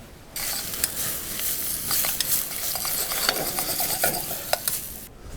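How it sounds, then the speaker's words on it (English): Onions cooking down in a pan over outdoor embers, a steady close sizzle with scattered clinks and scraping stirs, no talking. "Whilst the onions are cooking down"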